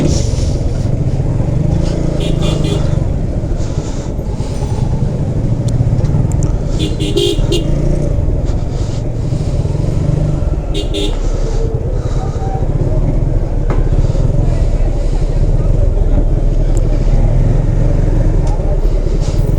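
Heavy street traffic in a jam, heard from a motorbike moving slowly through the crowd: a dense, continuous rumble of nearby engines with scattered higher bursts over it, loud and close throughout.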